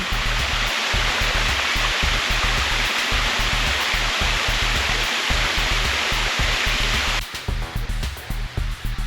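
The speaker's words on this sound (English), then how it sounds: "Here's the small stream from the top." A small stream above a waterfall at Stumphouse Tunnel in South Carolina rushes in a loud, steady wash of flowing water, close by and unbroken throughout.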